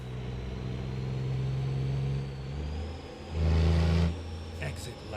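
A car engine in a video game drones steadily, then revs up louder for about a second before settling back, with faint in-game background sounds underneath.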